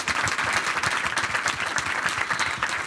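A studio audience on a talk show claps steadily and densely throughout, a sustained round of applause at moderate level with no voices on top.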